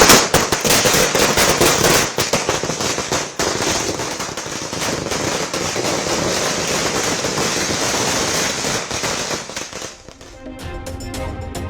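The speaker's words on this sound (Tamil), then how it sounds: "பட்டாசு வெடித்து உற்சாகம்." Strings of firecrackers burst at a political party celebration outside its Chennai headquarters, a loud, dense, rapid crackle of bangs for about ten seconds that then thins into scattered pops.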